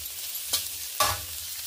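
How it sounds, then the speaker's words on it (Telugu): Ginger garlic paste fries in an iron wok for egg fried rice, a steady close sizzle broken by two sharp stirring scrapes of a spatula. "ఒక స్పూన్ అల్లం వెల్లిపాయ పేస్ట్ వేసుకున్నామండి. పచ్చివాసన పోయే వరకు వేయించుకున్నాము."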